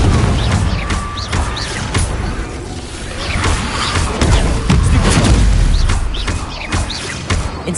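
Repeated Confringo blasting-spell explosions in Hogwarts Legacy combat, loud booming bursts and whooshes piling up in a continuous dense barrage of spell impacts and crashes, with no talk.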